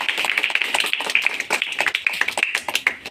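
A crowd claps hands at a magic show, dense rapid clapping continuing steadily throughout at moderate loudness.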